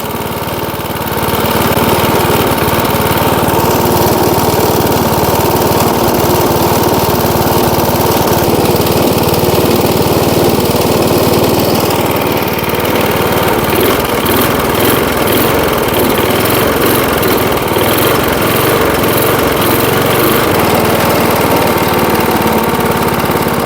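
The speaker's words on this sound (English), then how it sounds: "You just can't kill these old Briggs motors." An old Briggs engine on a 46-year-old vintage lawnmower runs steadily, a loud, constant small-engine drone with slight fluctuations and no talk over it.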